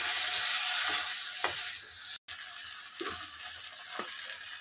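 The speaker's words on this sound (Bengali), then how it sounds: "এবারে চিংড়ি মাছটা একটু ভাজা হয়ে গেছে" Prawns coated in salt and turmeric sizzle in hot masala in a pan, a steady crackling fry broken by a few soft stirring scrapes and one brief cut to silence.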